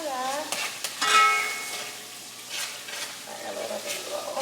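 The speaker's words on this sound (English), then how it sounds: "This is the ham seasoning now. Just gonna stir that" Seasoned rice with ham seasoning being stirred in a pot, a spoon scraping and clinking in short strokes over a low sizzle, close and fairly quiet.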